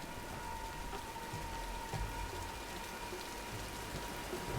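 Even, continuous rainfall hisses across the whole stretch in the 2013 Tomb Raider video game, with soft drops and no voices.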